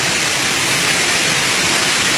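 A rushing waterfall pours as a loud, continuous broadband roar close by, with no break or other sound.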